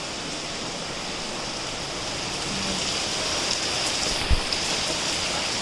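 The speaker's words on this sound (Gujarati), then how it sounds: "બહાર ખૂબ જ વરસાદ આવે છે" Steady, heavy rainfall hisses evenly throughout, a dense continuous wash of drops with a faint thump partway through and no talking.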